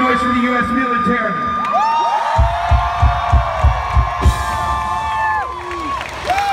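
A concert crowd at a civic center cheers and whoops at a rock show, loud rising shouts with rhythmic stomping or clapping pulses in the middle, as the yelling swells and then trails off.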